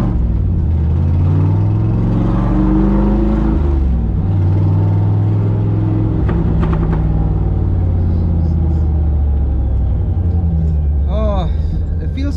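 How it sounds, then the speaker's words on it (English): A Toyota Supra engine with a leaking exhaust runs steadily in a loud, deep rumble with rising and falling revs, heard from inside the car while a person talks over it. "It sounds like it's a rod knock more than it's an exhaust leak, but I do know that the exhaust is leaking"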